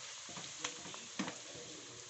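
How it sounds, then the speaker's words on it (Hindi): Ginger garlic paste frying with eggplant in a pan for baingan bharta gives a soft, steady sizzle throughout, with a couple of brief stirring clicks. "अब हम इसमें डाल रहे हैं लहसुन अदरक का पेस्ट"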